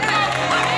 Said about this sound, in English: Round of applause for both of them.